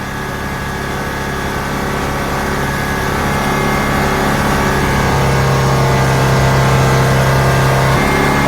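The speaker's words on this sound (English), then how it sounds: "So let's rev up the engine again." A Saturn Sky's engine, intermittently overheating, is held at raised revs, a steady droning hum that climbs slightly and stays loud and near throughout, with no talking.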